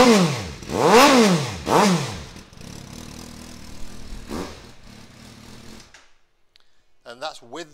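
Suzuki GSR750 motorcycle from 2014 with an exhaust baffle fitted, engine cranking and catching then revved in three sharp rising-and-falling blips before settling to a steady idle, close by, with brief talk at the end.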